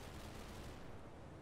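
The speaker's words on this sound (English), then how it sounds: "And we've got some mortars landing out in the open there." Mortar shells landing in open ground during a war video game, heard as a dense, continuous rumble of distant blasts and crackling fire with no clear gaps, steady and loud throughout.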